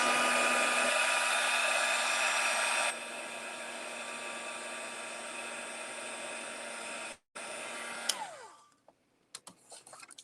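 Hair dryer blowing steadily on fresh paint during a painting lesson, a loud close whooshing roar that holds for several seconds, drops in level, then cuts off and winds down, followed by faint scattered clicks.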